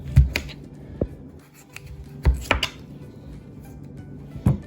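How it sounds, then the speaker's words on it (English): A knife cuts a snack food into chunks on a plate, with a few sharp, separate chopping taps spread across the moment, close and fairly loud against a quiet room. "I'm going to cut a chunk off."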